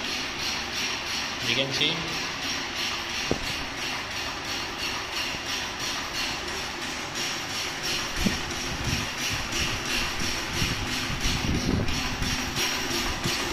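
Reciprocating pump test rig running at 50 Hz, giving a continuous mechanical clatter with rhythmic knocking and occasional sharper clicks, while someone talks briefly over it.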